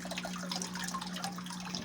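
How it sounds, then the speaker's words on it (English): Water draining out of a hydroponic growing system, a faint, continuous trickle and splash with a low steady hum underneath, brief and quiet, with no voices. "you can see how the water now is dumping out"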